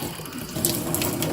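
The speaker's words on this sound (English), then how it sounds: "So whenever I turn the water on," Water runs from the tap of an Air Water Life alkaline water machine, a close, steady splashing gush that continues evenly for the whole short moment with no voices.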